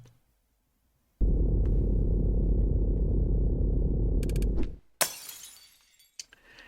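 A loud, sustained glass shattering from a video game scene rumbles for several seconds, followed by a sharp crash and scattered trailing clinks that fade out.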